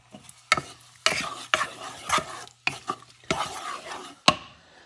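Smoked paprika and salt sizzle as a spoon sautés them in a pan, short bursts of scraping and stirring separated by pauses, with sharp clicks of the utensil against the pan, close.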